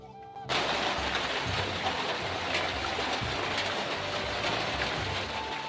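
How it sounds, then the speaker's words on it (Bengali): After a brief quiet start, rain falls steadily with a constant hiss and patter, close by and fairly loud, with no talking. "দেখো কিভাবে বৃষ্টি পড়ছে"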